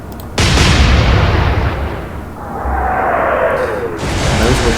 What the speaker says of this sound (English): Fire!